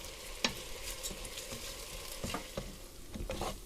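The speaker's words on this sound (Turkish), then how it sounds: "Şimdi pirinçlerimizi kavuruyoruz böyle" Washed rice being roasted with salt in a pot for an iftar meal, giving a steady dry sizzle with scattered scraping stirs and a few sharper clicks, close and moderately quiet with no talk.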